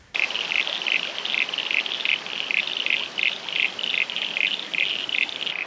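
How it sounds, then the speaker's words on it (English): A steady chorus of pulsing, trilling calls repeats in a regular rhythm, many frogs calling together outdoors near Cowra, Australia, loud and continuous with no voices. "a lot of happy sounding frogs."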